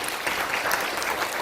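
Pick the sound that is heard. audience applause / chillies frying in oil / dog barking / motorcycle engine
audience applause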